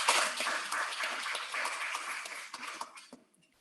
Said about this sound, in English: Let's welcome all the participants and speakers with a big hand of applause first.